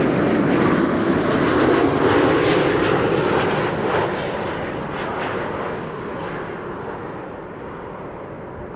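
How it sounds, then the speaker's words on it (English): An Embraer E2 195 jet arriving from London Heathrow on a frosty day at Amsterdam Schiphol roars past close by, a loud broad engine rush that peaks early and slowly fades, with a faint steady whine on top. "1002 arriving from London Heathrow, E2 Embraer 195"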